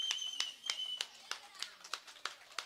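An audience claps at a Tamil comedy stage show, producing a steady run of about nine crisp, evenly spaced claps at moderate volume, with no voices over them.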